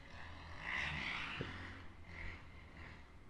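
A motorcycle engine drones steadily through the whole stretch, a muffled, moderately distant roar with no talking over it.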